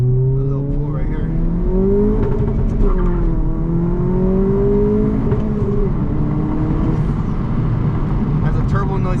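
Lowered, modified 2022 Honda Civic Si accelerating on a night drive, heard from inside the cabin as a loud, continuous engine drone whose pitch rises and falls through gear changes, with turbo whoosh and road rumble beneath a speaking voice.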